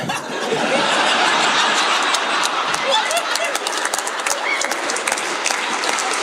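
A comedy club audience breaks into loud applause mixed with chuckles and scattered laughter, the clapping dense and close, thinning slightly toward the end.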